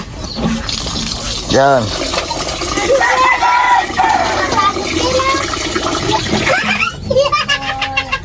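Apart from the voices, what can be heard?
water splashing while washing rice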